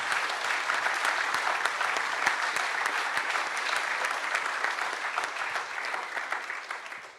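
Steady, dense applause from an audience at a trades olympiad honoring a bronze medalist in glazing, many hands clapping together close and even throughout, fading slightly at the end.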